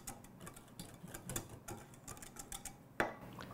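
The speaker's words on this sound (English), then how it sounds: "Whisk that together." A whisk ticks rapidly against a bowl as maple syrup is beaten with cinnamon, ginger, cloves, nutmeg and a pinch of salt, a quick irregular clatter near and quiet, ending in one sharper knock.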